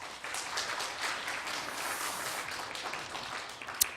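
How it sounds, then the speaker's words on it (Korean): Church congregation applauding to welcome the pastor at a Sunday service, a dense, steady clapping that fills the room for several seconds, with one sharp louder clap near the end. "우리 목사님 나오실 때 우리 크게 박수로 환영하겠습니다."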